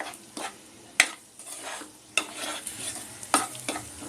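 Spiced masala for chicken liver fry sautéing in a pan over medium gas, a soft steady sizzle with scraping stirs and a few sharp utensil knocks against the pan, close and alone with no talking.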